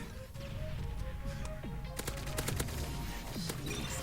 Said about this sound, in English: You can do recoil patterns by spraying it at a wall